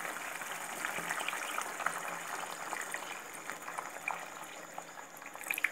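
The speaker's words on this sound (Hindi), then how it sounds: "पानी ऐड कर देंगे इसमें" Mutton curry for a quail curry recipe bubbling and simmering in a pan after water is added, a steady close crackle of boiling liquid with small pops throughout, no talk.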